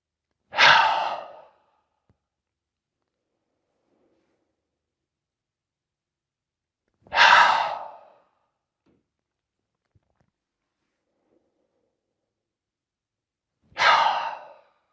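Three deep breaths during an Eight Pieces of the Brocade qi gong exercise, each a breathy exhale about seven seconds apart, close and clear with silence between.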